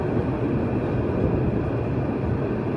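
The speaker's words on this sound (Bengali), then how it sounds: "চলছে ট্রেন, ট্রেনটি তার গতি কমিয়ে দিয়েছে" A train rolls slowly through a narrow lane between buildings on the Dhaka–Narayanganj line, making a loud, close, continuous low rumble that holds steady with no distinct clacks or voices.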